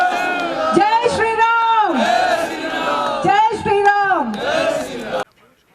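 A crowd at a charity event in Shiv Vihar, Karala, Delhi, chants Jai Shri Ram loudly in two surging, drawn-out waves of massed voices, then falls abruptly silent.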